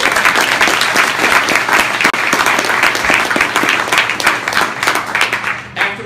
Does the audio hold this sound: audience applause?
yes